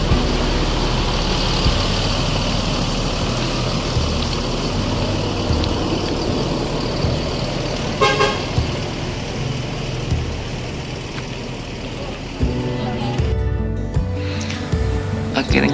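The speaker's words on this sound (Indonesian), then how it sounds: "bus ANS yang ketiga, yang trip ketiga, berangkat meninggalkan terminal Bukit Surungan menuju kota Jakarta" An ANS intercity bus pulls out of Bukit Surungan terminal bound for Jakarta, its heavy diesel engine rumbling steadily and close, with a brief clatter near the end as it moves off.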